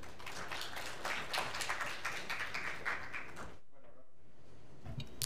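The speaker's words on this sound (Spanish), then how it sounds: "Lo recibimos nuevamente con un fuerte aplauso." An audience at an indigenous Amazon basin organizations event gives a speaker a warm welcome with applause. The clapping is brisk and fairly faint, then cuts off abruptly near the end.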